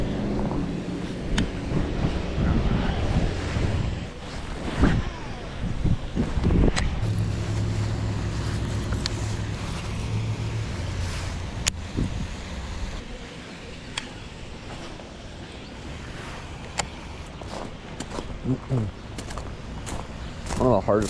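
Wind gusts across an open lake shore give a steady, loud rumble against the microphone, with faint knocks and rustles scattered through it.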